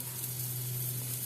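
Mushrooms frying in ghee for a pepper jeera rasam give off a steady, close sizzle with a constant hiss that holds evenly throughout and has no talk over it.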